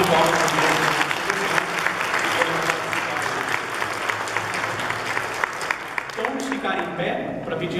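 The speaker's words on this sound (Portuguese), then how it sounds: "Então uma salva de palmas." A church congregation applauds steadily throughout, with dense sustained clapping filling the space and a voice speaking over it near the end.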